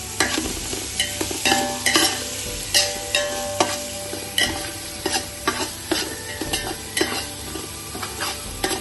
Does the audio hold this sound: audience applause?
no